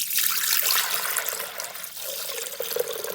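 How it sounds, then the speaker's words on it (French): A litre of water pours into a Thermomix bowl set on a scale, a continuous close splashing trickle that shifts in pitch as the bowl fills. "je vais sur ma balance et je mets 1 litre d'eau"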